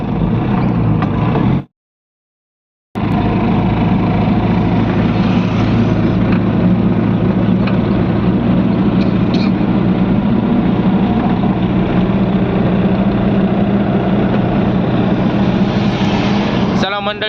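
A loaded vehicle's engine runs in a steady, loud, continuous drone close by. A short silent gap interrupts it near the start, and some talk sits under the engine noise.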